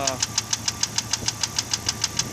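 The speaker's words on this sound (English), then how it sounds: "that's maybe a piston slap." A car engine runs with a rapid, evenly spaced metallic knock, roughly six taps per second over a steady idle hum, suspected piston slap or piston skirt fault, close to the engine.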